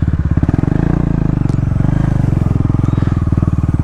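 Modified KTM Duke 390 motorcycle with an aftermarket exhaust, idling or running steadily close by with a loud, rapid, pulsing thump and faint crackle throughout.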